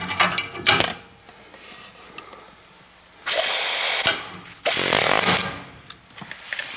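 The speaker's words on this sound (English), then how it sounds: "I punch this out the rest of the way with one hand" An old leaf spring bushing is punched out of a Bronco II spring in two loud, harsh bursts of about a second each, close up, with quieter clanks and knocks around them.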